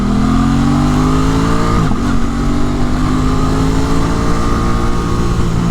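An Aprilia RS 660 sport motorcycle engine runs loud and close, holding a steady rising drone with a brief gear-change dip, heard as ride-along engine noise without talk.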